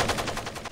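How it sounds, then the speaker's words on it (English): A light machine gun rattles on full auto in Ghost Recon Advanced Warfighter 2, a short, loud, rapid burst of evenly spaced shots close up, with nothing else over it. "Using a light machine gun."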